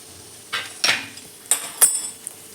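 Mango pickle ingredients being mixed with oil in a bowl, a handful of distinct clinks and scrapes of a utensil against the bowl, sparse and close.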